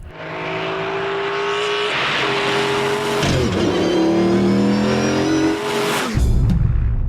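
A Mercedes CLK GTR road-version sports car engine revs hard, rising and falling in pitch with gear changes, loud and close, followed by a sharp burst near the end.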